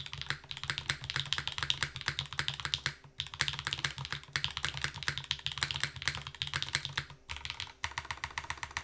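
Steady, rapid typing on a Void65 custom mechanical keyboard with its feet removed, dense clacky keystrokes running continuously with a deeper, fuller bottom-out, broken only by two brief pauses and no voices.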